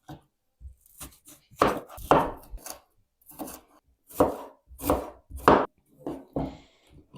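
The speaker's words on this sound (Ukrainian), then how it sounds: "Дві середніх цибулини наріжу кубиком." A knife chops onions into cubes on a cutting board in irregular bursts of quick taps, close and clear, with no talking.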